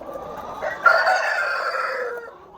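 An Australorp rooster crows once, loud and close, the call rising sharply and then holding a long, slightly falling note before trailing off.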